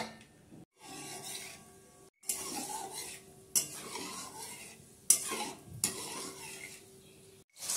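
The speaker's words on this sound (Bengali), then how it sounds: "কিশমিশ ভাজার পর আমি এবার কাজু বাদামগুলো ভেজে নিচ্ছি।" Cashew nuts fry in a pan of oil and ghee with a soft steady sizzle, broken by several louder bursts of stirring and a spoon scraping against metal. No one speaks.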